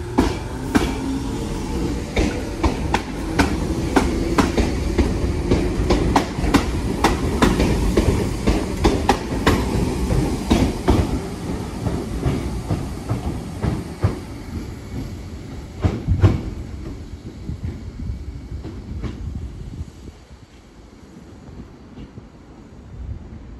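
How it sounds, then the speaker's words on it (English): A train passes through a station at speed, its loud, steady rumble and rapid clatter of wheels over rail joints rising and then easing away before a quieter tail. "Train now passing through."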